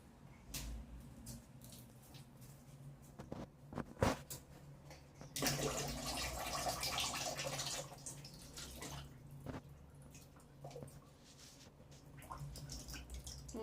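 Tap water runs and splashes faintly while a child's feet are washed at home, with soft drips and a louder gush partway through.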